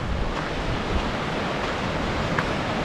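Ocean swells and surf wash steadily near Bass Harbor Head Lighthouse in Acadia National Park in February, a broad continuous roar mixed with wind buffeting, with no voices.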